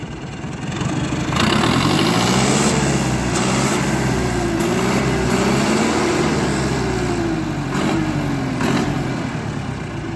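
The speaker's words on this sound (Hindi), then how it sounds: "आवाज़ ट्रैक्टर की बिल्कुल साइलेंट, जैसे गाड़ी होती ना ऐसी आवाज़ होगी ट्रैक्टर की।" A tractor engine fitted with a turbo intercooler runs smoothly and fairly quietly at a steady idle, a continuous close drone with a slight wavering pitch and no talk over it.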